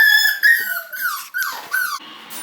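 Six-week-old Cockapoo puppies whimper and squeak in high, wavering cries, a few short bursts in a row, close and fairly loud.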